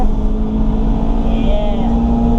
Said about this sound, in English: engine braking is good. Going into these curves on second gear.